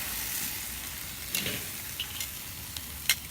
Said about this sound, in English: Just going to let these things sear up and get them foiled up and continue baking them.